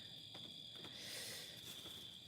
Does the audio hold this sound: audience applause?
no